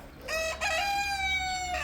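A chicken in a vegetable garden gives a single long, drawn-out crowing call, close and clear, lasting nearly two seconds over quiet outdoor background.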